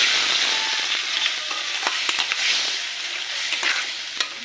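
Prawn masala paste sautéing in a pan: a bright, hissing sizzle runs throughout, broken by several short scraping strokes of a stirring spoon, close up and with no voices.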